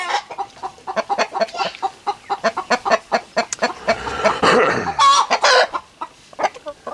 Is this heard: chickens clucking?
yes